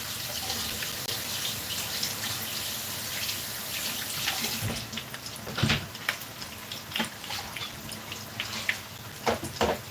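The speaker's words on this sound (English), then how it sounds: "I'm just quickly washing the bowl I use now." Tap water runs steadily into a sink while a bowl is rinsed underneath. The rushing stream is broken by clinks and splashy bursts near the end, with no voices.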